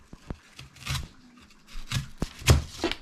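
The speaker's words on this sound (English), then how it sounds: "Get our onion looking pretty. You cut it in half." A knife slices through an onion on a cutting board while a moose meat stew is being prepared, giving several crisp, separate cutting thuds at an uneven pace, close by and with no talking.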